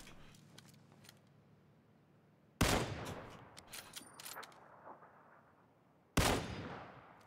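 Two sharp, loud gunshots from the shooter game PUBG in first-person mode, spaced a few seconds apart, each bursting out of a quiet background and trailing off with a brief echoing tail; no talk.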